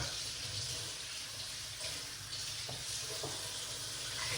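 Tap water runs steadily over a key lime being washed in a sink, a continuous bright splashing hiss with small shifts as the fruit is turned under the stream.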